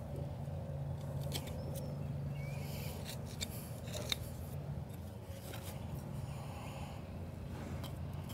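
Quiet snipping and rasping as a horse's hooves are trimmed during shoeing, made up of faint intermittent clips and scraping strokes over a low steady background hum.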